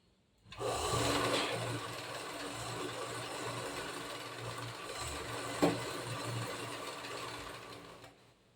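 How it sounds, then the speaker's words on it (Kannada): A sewing machine runs steadily, stitching a zigzag fall onto a saree with a continuous close mechanical whir and a brief louder clack near the end; no voices. "ದಾರ ಮುಂದ್ಗಡೆ ತಗೊಂಡು ಹಾಕಿ ಸ್ಟಿಚ್ ಮಾಡಬೇಕು"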